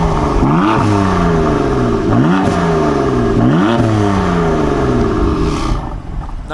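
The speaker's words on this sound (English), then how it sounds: "It's got pretty good exhaust note, which I will put some exhaust clips in right now" BMW M4 engine revving hard in Sport Plus mode, repeated rising and falling blips of a loud nearby exhaust, each sweep climbing then dropping, steady and close before easing off near the end.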